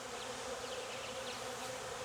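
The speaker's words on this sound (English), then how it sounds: "a lot of bees" A honey bee swarm hums around a hive in Jacksonville, Florida, a dense, steady buzz of many insects at low level with no pauses.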